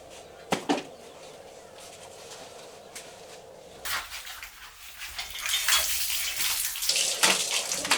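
Water splashes and pours as a man washes at a tube well in rural Bangladesh, intermittent splashes at first, then a continuous running, splashing stream in the second half.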